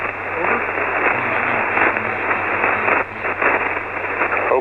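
A ham radio transmission comes through as a loud, band-limited rush of static and hiss with a steady hum, and a faint voice is buried in the noise.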